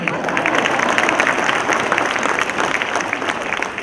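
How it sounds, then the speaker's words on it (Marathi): An audience of women at a public speech breaks into applause, a dense, loud burst of many hands clapping steadily throughout. "महिला आहेत त्या टाळ्या वाजवायला लागल्या."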